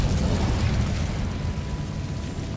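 Incendio fire spell in the video game Hogwarts Legacy, a loud, sustained roaring whoosh of flame that fills the whole moment without letup.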